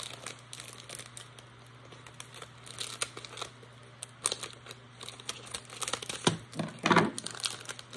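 Close, quiet crinkling of a portable photo printer's plastic packaging in irregular bursts, getting louder and busier toward the end.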